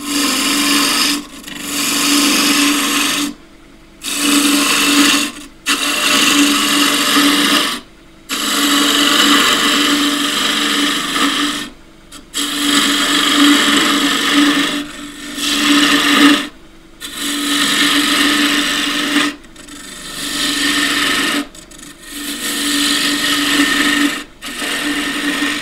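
A bowl gouge cuts into a redgum box held in a lathe chuck, making a loud steady rasping shear over a droning motor tone, broken into many repeated passes with brief silent gaps between them.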